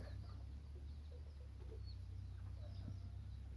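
A crossbred jungle fowl rooster, artificially inseminated jungle fowl crossed with an old-line hen, gives soft short clucks over a constant low electrical hum, close and quiet.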